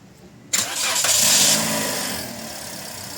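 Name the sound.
Toyota Vios car engine starting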